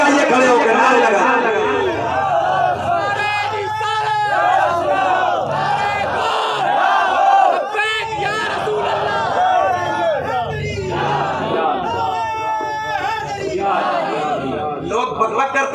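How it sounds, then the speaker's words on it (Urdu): A large standing crowd at a religious gathering chants slogans in loud, rhythmic bursts, many voices shouting together with brief pauses between calls. "کھڑے ہو کے نعرے لگائیے"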